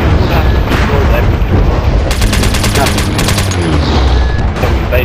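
Dense volleys of gunfire from a MAG Domination match defending Flores, with a rapid automatic burst in the middle of the clip over constant battle noise and some voice chatter.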